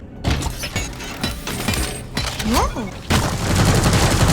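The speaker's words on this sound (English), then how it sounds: "Sentry gun." A sentry gun in the video game Deep Rock Galactic fires in rapid automatic bursts, with sharp repeated shots and clattering mechanical effects over busy game sound and a brief voice.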